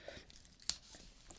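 A short, sharp rip as a piece of tape is torn off over tracing paper and pattern paper, one quick burst in otherwise quiet surroundings.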